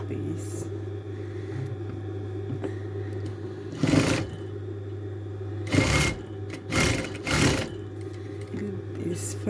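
A sewing machine hums steadily as it stitches the side seams of a furry-fabric Christmas stocking, a constant close motor drone with a few brief louder rustles of the fabric being handled.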